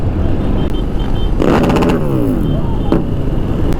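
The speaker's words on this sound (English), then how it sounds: "Few rev bombs," Motorcycle on a group toy run giving a quick throttle blip, a short loud rising rev lasting about half a second amid constant road and wind rumble, close to the rider.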